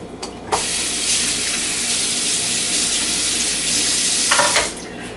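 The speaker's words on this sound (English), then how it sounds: "bear with me just a second while I see about getting the teaspoon container clean in my dishwater" A teaspoon container is washed in a sink of dishwater, giving a steady rushing, splashing wash that runs for several seconds with brief sharper bursts at the start and near the end.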